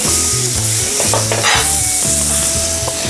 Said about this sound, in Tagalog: mainit na po ang ating sizzling plate. So, lagay po natin ang ating butter.